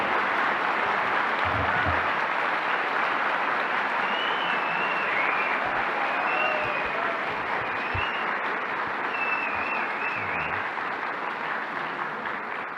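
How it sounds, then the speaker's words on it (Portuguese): Sustained audience applause fills a hall at a Spiritist congress, a steady, even wash of clapping from a large crowd lasting throughout, with faint voices beneath. "Vamos receber com muito carinho, uma salva de palmas, Haroldo Dutra Dias."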